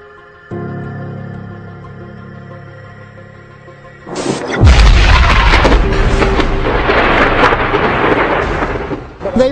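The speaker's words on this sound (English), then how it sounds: "Loud explosions rocked neighborhoods on the northeast side of Flint this afternoon" A deep, loud boom from U.S. Army training explosions in Flint's northeast neighborhoods bursts in after a steady low hum, then rolls on as a heavy rumbling wash that slowly fades, with no talking.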